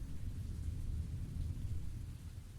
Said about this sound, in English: The autumnal skies were already darkened with heavy rain